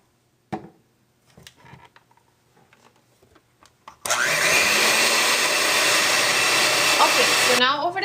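Electric mixer beating pumpkin pie filling with spices in a bowl: a few faint knocks and clatters, then a loud steady motor whir starting abruptly that runs several seconds before cutting off.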